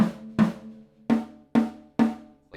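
Five muted tom-tom strikes at an even pace, damped by an exercise slider disc placed on the head, each thud short and dead yet carrying a faint lingering overtone.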